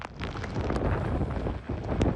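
Strong, blustery hurricane wind roaring steadily with buffeting gusts, a dense broadband rush that stays loud throughout with brief sharper bursts.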